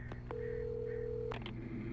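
A short electronic telephone dialing sequence in the video game Alan Wake: a couple of beeps, a sustained tone, then a few quick dialing tones, close and clean over a low hum.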